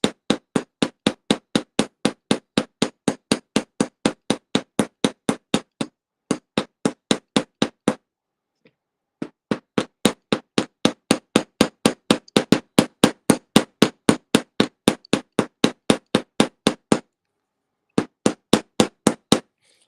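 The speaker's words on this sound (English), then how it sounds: "It's a lot of hammering" Rapid hammering on metal to form riveted jewelry links, sharp ringing strikes in quick steady bursts with short pauses between runs, close and loud with no talking.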